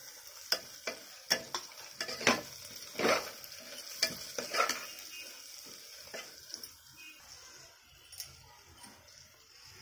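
Chili and turmeric powder frying in a pan for an Odia chicken curry, heard as soft sizzling broken by a run of sharp scraping and tapping strokes from a spoon stirring in the pan, close and fairly quiet.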